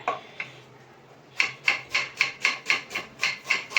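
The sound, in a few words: chopping onion quickly with a knife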